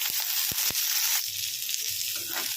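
Curry leaves dropped into hot oil in a pan with dried red chillies, sesame seeds and coriander seeds, giving a loud steady sizzle and crackle with a few sharp pops, heard close up.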